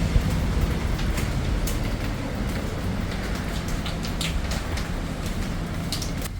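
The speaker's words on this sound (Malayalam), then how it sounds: "പുറത്ത് നല്ല മഴയാട്ടോ" Heavy downpour outside, a dense steady hiss of rain across the whole stretch with scattered louder drops and rumbling background noise, moderately loud and without speech.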